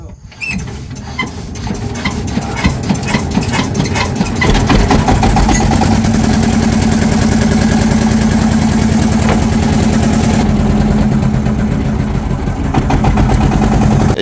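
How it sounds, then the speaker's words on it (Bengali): A boat engine sputters to life and settles into a steady, rumbling idle with a continuous low drone and mechanical rattle, fairly close and loud, on a Sundarbans canal at night during high tide. "এই তো স্টার্ট হবে ইঞ্জিন"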